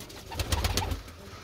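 Soft pigeon cooing, a few low throaty coos close by over a faint background hiss.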